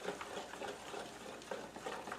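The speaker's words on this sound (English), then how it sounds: "now we little by little start adding in the sawdust" Sawdust being stirred into resin to thicken it, a steady gritty scraping and swishing that pulses in uneven strokes, close up and moderately quiet with no talk, during home boat building.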